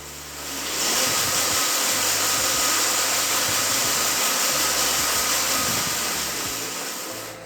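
Electric bike mid-drive motor revving up on a stand in first gear, the lightest gear, giving a steady, loud whirring hum that builds quickly and holds, with no talking.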